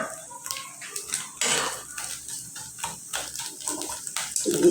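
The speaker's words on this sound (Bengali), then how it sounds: "ঘিটা আমি ভালো করে ম্যাশ করে নিলাম।" Ghee being mashed with a spoon in a pan while making flattened-rice and egg pulao: repeated close scraping and clinking of metal on metal, uneven in rhythm, with no one talking.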